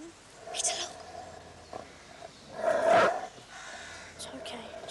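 A dog barks in a quiet outdoor setting, with one louder bark burst mid-clip and fainter yelps around it, while people whisper nearby.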